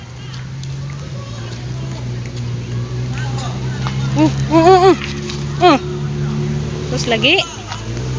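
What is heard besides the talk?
motorcycle engine revving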